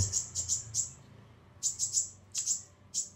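Bright, high chirping calls from a songbird kept by a bird keeper in Bali, coming in short clustered bursts of three or four notes with brief pauses between, close and clear over a quiet background.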